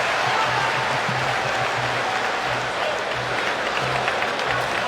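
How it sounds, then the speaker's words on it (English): An arena crowd at a UFC fight in Abu Dhabi applauds steadily after the bout, a dense continuous roar of clapping and cheering, with commentators' voices faintly beneath. "Khamzath Chimaev and Kamaru Usman go the distance here in front of an appreciative crowd in Abu Dhabi."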